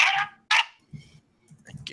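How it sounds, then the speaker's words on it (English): A dog barks twice in quick sharp bursts through a phone line, followed by fainter yelps and whimpers, all sounding thin and somewhat distant against a quiet background. "John's dog's going crazy"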